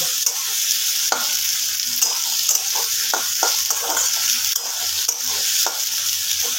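Onions fry over a medium flame in a pan for mutton kosha, a constant bright sizzle broken by repeated scraping clicks of a spatula stirring them, close and steady with no talk.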